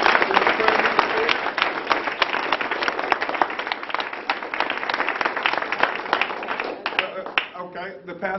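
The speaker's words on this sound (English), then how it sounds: "Please give them a great round of applause." A big audience applauds Hyundai Corporation at a Tuskegee gathering, with dense clapping that fills the whole stretch and thins a little near the end.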